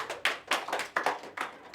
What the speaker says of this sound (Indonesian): silakan beri tepuk tangan untuk Dina.